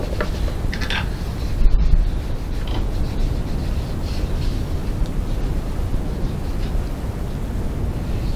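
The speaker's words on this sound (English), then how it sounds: "And I'm just going to go rubbing around." A cloth rubs machine oil over an old Janome sewing machine, making a loud, continuous close-up scrubbing and swishing with brief stronger strokes and no voices.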